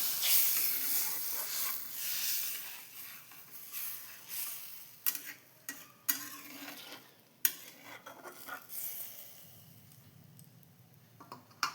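Small fish in a sour broth simmer in a pan with a steady soft hiss and bubbling, broken by occasional clinks and scrapes of a utensil stirring against the metal.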